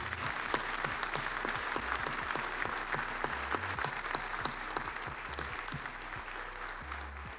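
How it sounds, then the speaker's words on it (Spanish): An audience at an inaugural lecture gives steady, sustained applause for the young people of the Minga movement, with many hands clapping in an even, moderately distant wash that holds at a constant level throughout. "quiero pedirles a todos un fuerte aplauso para ellos"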